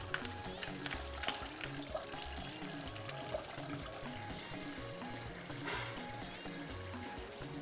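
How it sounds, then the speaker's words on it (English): Dried fish is rinsed under running tap water, a faint continuous splashing and trickling with small clatters as it is handled. "I'm washing the dried fish now."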